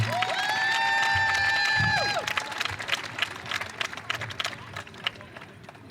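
A crowd at a show jumping event claps and cheers. A whistle-like cheer is prominent for the first couple of seconds, then the clapping thins into scattered, fading applause.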